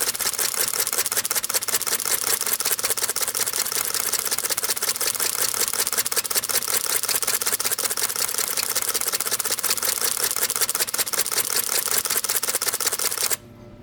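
A Pentax K-70 camera shutter fires continuously in burst mode, a fast, even mechanical clatter that runs steadily for about thirteen seconds at close range before stopping abruptly.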